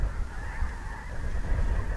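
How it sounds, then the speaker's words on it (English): Snow geese honking from a flock settling onto the water of Pine Coulee Reservoir, a steady distant chorus of overlapping calls over a low rumble of wind. "it was big white birds, like these snow geese"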